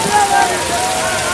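Steady rain pours down in a dramatic scene set around a burning temple fire, a dense continuous hiss filling the clip with no pauses or distinct drops.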